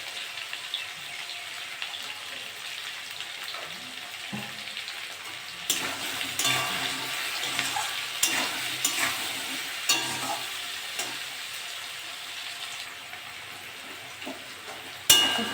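Bhutchanda fish and arum root pieces, seasoned with turmeric and salt, sizzle steadily in a hot pan while a utensil stirs and scrapes them in intermittent bursts, with no talking.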